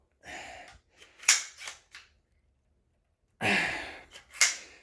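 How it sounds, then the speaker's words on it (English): A B&T APC9K pistol with a hydraulic buffer is worked to prime it, with two bouts of effortful breathing interleaved with sharp metallic clacks of the charging mechanism, close and loud. "because of the hydraulic buffer in the back, this thing fucking sucks to try to prime"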